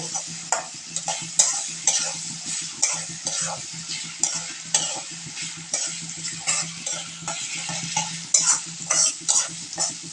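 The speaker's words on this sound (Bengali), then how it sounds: "নাড়াচাড়া করে নিচ্ছে সুন্দর করে পেঁয়াজগুলো একটু ভেজে নিচ্ছে" Onions being stirred and fried for a fenugreek-leaf (methi shak) dish, with a steady close sizzle broken by rhythmic scraping strokes of a spatula against the pan, no voices.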